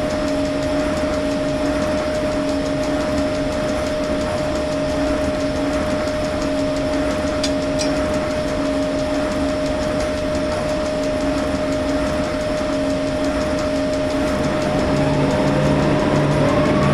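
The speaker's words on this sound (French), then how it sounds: "Nous arrivons donc en gare d'Aix-les-Bains." A Corail Lunea passenger train in Train Simulator 2018 pulls into Aix-les-Bains station on track A, giving a steady mechanical hum with a sustained tonal whine and a soft rolling rumble throughout, with no voices.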